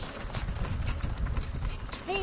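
Horse hooves clip-clop at a steady trot while a child rides, close and rhythmic, with a person talking over them and a short high-pitched vocal sound near the end.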